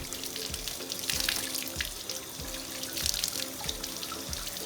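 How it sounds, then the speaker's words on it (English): Water runs steadily from a tap over a shower head being rinsed in a sink, a continuous splashing hiss with faint drips and clatter. "Another hour or so goes by and I rinse the shower head off"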